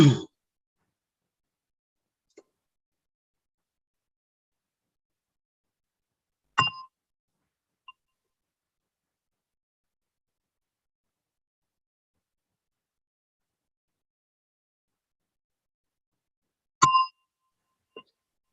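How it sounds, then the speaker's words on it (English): A meditation gong is struck at a sitting meditation session, giving a few isolated rings with a clear metallic tone that decays into long silences, one faint tap early on and two strong strikes later. "With the gong,"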